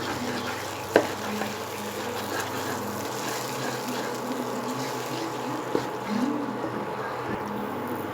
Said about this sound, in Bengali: এইবার সমস্ত উপকরণ ভালোভাবে আমি মিশিয়ে নেব